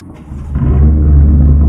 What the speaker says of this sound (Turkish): Şöyle bir bas bakayım marşa